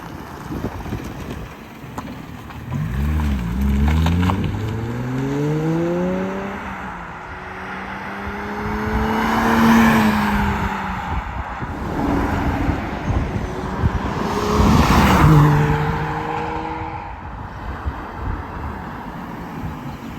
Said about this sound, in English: You can hear that V12 really come to life